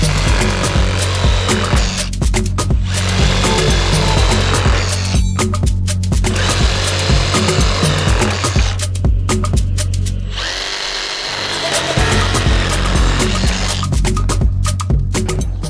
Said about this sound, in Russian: И вот сейчас мы посмотрим, насколько быстро она будет отрезать доску.